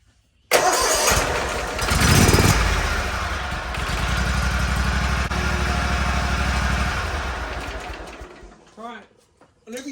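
A Kawasaki 19HP engine on a zero turn lawnmower starts abruptly and runs loud and close, revving hard for a moment before settling into a steady, rough idle that fades and cuts off near the end.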